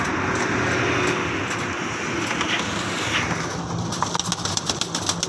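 Young pigeons of mixed colours in a pigeon shop in Jhelum, steady soft cooing and bird calls over a constant hum of air conditioning and distant traffic, no talk.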